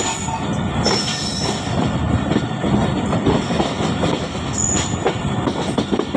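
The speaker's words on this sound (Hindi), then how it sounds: "तो लोकोमोटिव ने कर्व ले लिया है और ड्यूल मेन लाइन अब सिंगल मेन लाइन हो गई है।" A locomotive-hauled passenger train, the Jaffar Express, rounds a curve where a dual main line becomes a single line, giving a loud close rumble of wheels with high squealing flange screech and rail clatter throughout.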